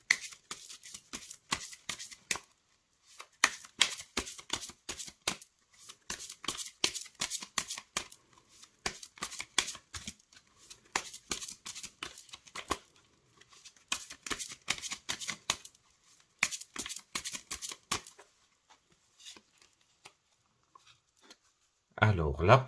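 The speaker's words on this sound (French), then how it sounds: "Je vous propose de battre les cartes pour découvrir votre message du jour." Oracle cards are shuffled by hand in a steady series of quick, crisp riffling slaps, close and fairly soft. They run in bursts with brief pauses and stop near the end.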